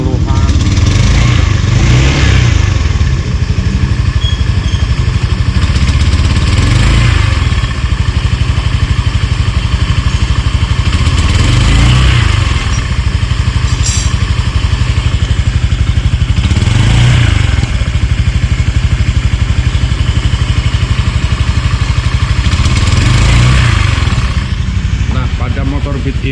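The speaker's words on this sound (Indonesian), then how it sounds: "Beat ini seperti itulah keluhannya, berbet di RPM bawah" A Honda Beat FI scooter with a broken injector nozzle runs roughly at low RPM, its engine close and loud with an uneven, sputtering chug that swells every few seconds throughout, while someone talks over it.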